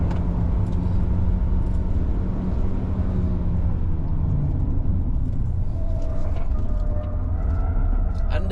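A Jaecoo J7 AWD car drives up the Genting road, heard from inside as a continuous loud, low road and engine rumble. A faint tone rises near the end.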